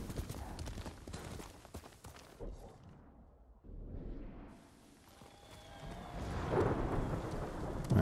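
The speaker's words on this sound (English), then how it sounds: "Alright, good, the horse can go up the stairs." Horse hooves clip-clop in the video game Ghost of Tsushima as a horse climbs stairs, mixed with rain and rolling thunder. The sound is fairly quiet and muffled in places, with a louder stretch toward the end.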